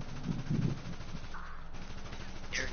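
Bursts of rapid video game gunfire crackle in quick succession early on, followed by a quieter stretch with a few scattered shots.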